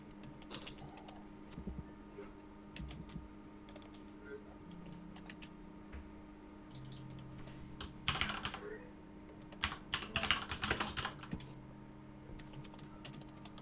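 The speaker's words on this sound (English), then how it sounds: "Frantic typing." Frantic typing on a computer keyboard during a tabletop Dungeons and Dragons game session, with bursts of fast clicking that grow louder and denser in the second half over a steady low hum.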